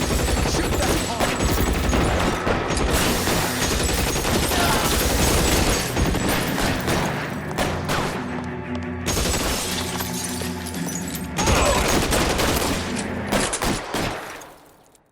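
Gunfire in the video game L.A. Noire, loud sustained bursts of shots and shattering impacts under a heavy score, with a voice briefly heard.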